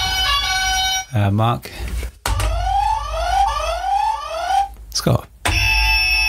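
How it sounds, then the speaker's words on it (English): Quiz game buzzers go off one after another: electronic alarm-like tones, one with rapid rising sweeps, each loud and close and separated by short gaps, while voices call out names between them. "how's your buzzer go?"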